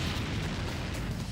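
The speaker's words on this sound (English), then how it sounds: "get used to that explosion asset" A loud cartoon explosion effect from an animated Inspector Gadget film, a dense, rumbling blast that fills the whole short stretch, with no speech.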